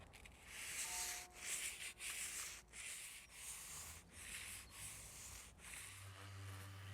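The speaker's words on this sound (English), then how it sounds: "going to use a sanding block here with some sandpaper" A sanding block wrapped in sandpaper rubs back a wooden window frame in steady back-and-forth strokes, each scrape a close, soft rasp separated by short pauses, with no talking.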